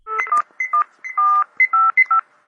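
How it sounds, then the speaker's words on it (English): A telephone keypad sounds a rapid series of clear, loud DTMF tones as a phone number is dialed, each beep short and separated by brief gaps. "Call the external reporting agency's phone number that is listed at your facility."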